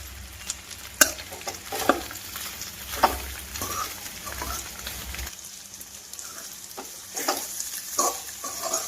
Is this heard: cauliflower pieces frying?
yes